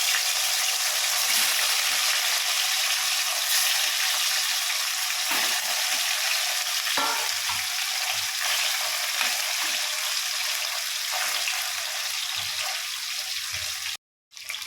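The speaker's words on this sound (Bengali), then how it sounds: "তেলে মাছগুলো দিয়ে দিই একে একে।" Hilsa fish tail pieces fry in hot oil with nigella seeds, a continuous close hiss and crackle with occasional small pops, cutting out briefly near the end.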